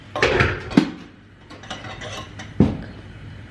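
Dishes and cutlery clink and clatter as they are washed by hand, with a few sharp knocks of pots or plates against each other between quieter rinsing sounds, close by and without talk.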